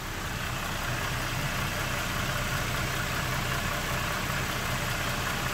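A 2008 Chevrolet Equinox with a 3.6-liter V6 idles steadily under the open hood, heard close up as a smooth, even running drone with no talking.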